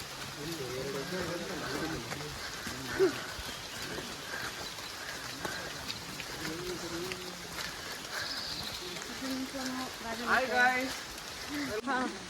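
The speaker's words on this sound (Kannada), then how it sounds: "ಓ ಮಳೆ" Steady monsoon rain falls during a trek to Kudremukh in the Western Ghats of Karnataka, India, as an even wash of patter. Voices and a few brief louder knocks can be heard under the rain.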